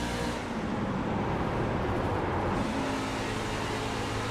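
Race truck engine roar in a JWRES truck series racing game at Charlotte, a dense constant drone with a brief dip as the truck is shut off into the corner, then resuming loud.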